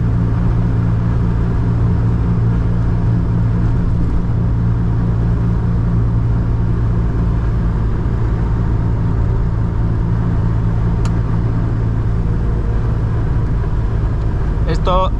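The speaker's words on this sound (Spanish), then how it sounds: "Tiene un sonido muy profundo, un ronroneo del motor M110" A 1970s Mercedes-Benz W116 280SE with the M110 straight-six engine cruising on a motorway, giving a steady, deep low rumble and droning road noise that hold unbroken throughout, heard from inside the cabin with no talk.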